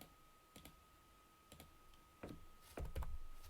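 Sparse, quiet taps on a computer keyboard, a few isolated keystrokes including a delete press, growing slightly louder toward the end over a faint electrical hum.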